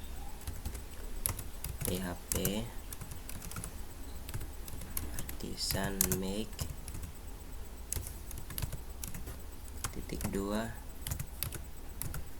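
Keystrokes on a computer keyboard rattle in irregular bursts while a developer retypes a PHP Artisan migration command, with someone speaking over the typing throughout.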